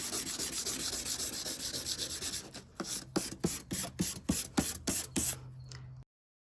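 A car headlight sanded by hand with 320-grit sandpaper: continuous close rubbing turns into a brisk back-and-forth of about a dozen evenly spaced rasping strokes, then stops.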